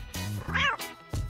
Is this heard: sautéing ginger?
no